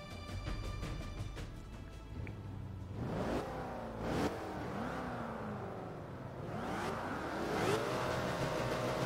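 Race car engines in Forza Motorsport 5 rev and accelerate, rising in pitch again and again as cars pull away at the start of a race. The engines blend with a steady background rumble at moderate loudness.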